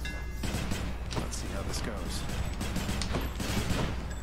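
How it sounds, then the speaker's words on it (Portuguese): Rapid gunfire from a three-shot burst weapon in the video game Hades crackles in quick bursts over a steady electronic backdrop, loud and busy throughout. "Seu ataque se torna uma rajada de 3 tiros"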